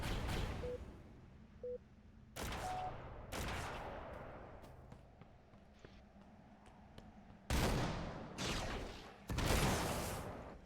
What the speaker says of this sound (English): Dude, the shotgun reload.